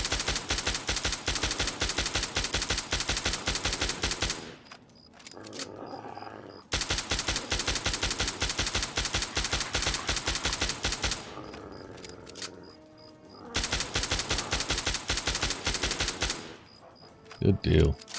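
Rapid automatic gunfire in Fallout 3, loud sustained bursts of several seconds each separated by short quieter gaps, with a few closing shots at the end.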